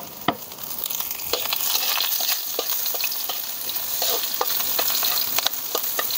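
Garlic and onion sizzle and crackle in hot oil for a pork pata hamonado cooked outdoors, a steady close frying hiss broken by stirring scrapes and small pops, with no voices.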